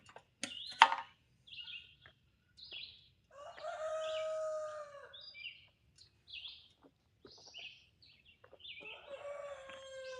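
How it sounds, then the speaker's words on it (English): One of several new roosters on a rural homestead crows nearby in a long drawn-out call, surrounded by scattered chirps and calls from other birds, with no talking. "It's one of our new roosters."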